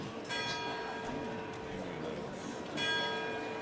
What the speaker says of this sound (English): Is that a foggy bell or what is it?